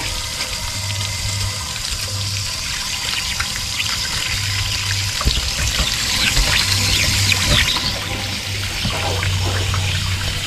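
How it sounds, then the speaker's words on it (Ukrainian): Dirty water drains from a camper through an ordinary household garden hose, splashing and gurgling steadily at close range, with a low hum pulsing underneath and no voices. "Думаю, видно, яка грязна вода йде."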